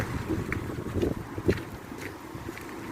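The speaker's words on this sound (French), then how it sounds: "Quand il y a du vent, c'est un truc de malade." Strong, gusty wind blows straight onto a microphone outdoors at someone's home, giving a continuous low rumbling buffet with a few sharper pushes.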